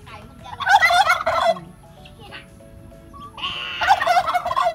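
A turkey gobbling nearby, two loud rattling bursts of calls separated by a quieter pause, with faint background noise between them.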